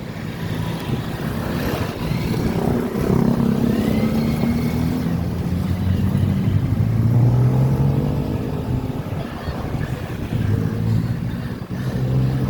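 Steady road traffic heard on a bike ride approaching Nasugbu, with car and motorcycle engines rumbling and revving nearby, rising and passing continuously throughout with no talking.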